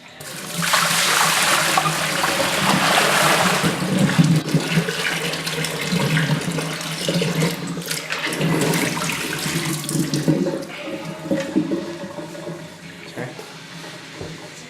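Hot rinse water gushes out of a homebrew beer keg and splashes steadily into a drain. The loud, rushing pour slowly tapers off toward the end, with a voice heard faintly in the background.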